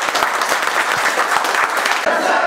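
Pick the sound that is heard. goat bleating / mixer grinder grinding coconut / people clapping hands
people clapping hands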